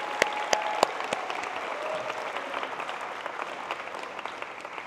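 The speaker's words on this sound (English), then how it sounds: "Let's give one big round of applause." A crowd at a 2024-25 leadership symposium welcome ceremony breaks into a big round of applause, a dense continuous wash of clapping with a few sharp nearby claps at the start.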